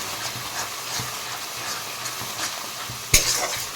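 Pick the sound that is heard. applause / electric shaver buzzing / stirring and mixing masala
stirring and mixing masala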